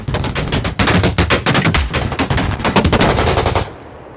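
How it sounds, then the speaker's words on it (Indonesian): Loud, rapid bursts of gunfire from long rifles in a film scene, dense overlapping shots rattling continuously for several seconds before cutting off abruptly, with no talk. "4 polisi yang bersenjata laras panjang menembak mati Jack"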